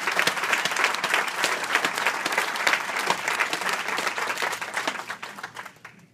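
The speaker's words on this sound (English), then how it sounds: "they need to be acknowledged for that and given a round of applause" A room full of people at a Kansas City, Kansas NAACP event breaks into sustained, dense applause, loud and even for several seconds before tapering off.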